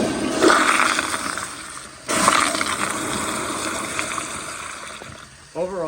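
A 2008 American Standard Madera toilet, new old stock, flushes with a loud rushing gush of water that swells, cuts off briefly, then surges again into a steady draining swirl, ending with a short clunk or refill noise.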